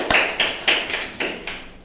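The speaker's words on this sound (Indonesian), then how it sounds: "boleh tepuk tangannya lagi" Audience at a school podcast event clapping hands in a short burst of about six distinct claps, fairly close and crisp, with no talking over them.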